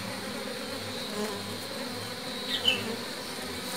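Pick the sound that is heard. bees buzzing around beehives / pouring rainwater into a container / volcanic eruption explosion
bees buzzing around beehives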